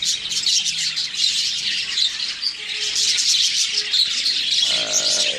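Budgerigars in a breeding colony keep up a dense, loud, continuous chatter of overlapping chirps and warbles, with a few squawks, and no one talks over it.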